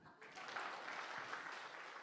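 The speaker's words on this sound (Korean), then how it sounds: "그 박수 좀 쳐줘요." A church congregation gives sustained applause, a dense, rippling patter of many hands that starts after a brief lull and carries on steadily, with a voice faintly mixed in.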